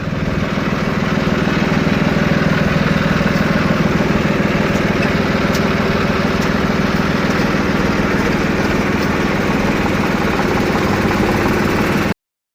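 A tractor engine runs at a steady, loud drone for the whole stretch, with an even low rumble and no breaks, on a farm where it hauls a load of manure. No one speaks.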